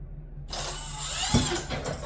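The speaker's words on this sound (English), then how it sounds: "then I take my drill" A power drill whirs steadily at close range for a couple of seconds, twisting wire held in a vise, with a brief knock partway through.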